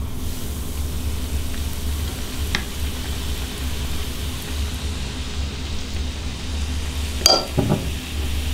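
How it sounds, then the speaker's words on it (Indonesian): Flour-coated dough frying in preheated oil, a steady quiet sizzle and crackle throughout, with a clink of a utensil near the end. "Kita goreng."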